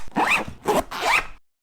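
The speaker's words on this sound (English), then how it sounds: "the same bit of kit can zip and unzip without having any sort of reverse setting" A zip is pulled three times in quick succession, each stroke a crisp rasping run close to the microphone, alternately zipped and unzipped, then silence.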